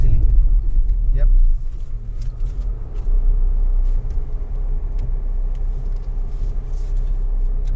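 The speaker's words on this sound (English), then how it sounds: "I think this car is going to handle it pretty easily" A Tata Punch AMT car engine rumbles low and steady as it crawls up a rubble incline, with faint crunches and knocks from the terrain beneath.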